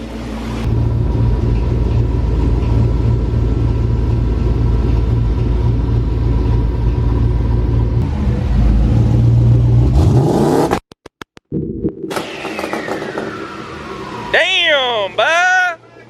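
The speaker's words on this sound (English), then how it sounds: "The truck is fired up. Sounds great." A loud 1000+ horsepower Chevrolet Colorado truck with a freshly built engine and an exhaust leak idles and rumbles steadily on its first start, then revs up before cutting out briefly and returning.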